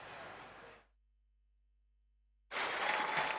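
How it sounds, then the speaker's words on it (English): Applause from a political party conference audience, heard in two bursts separated by a short gap of silence, moderately loud and steady. "Smiles and applause for the conference cameras."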